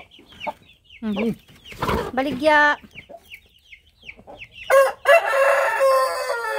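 A chicken clucks and crows in bursts, fairly close, with a person speaking briefly in between.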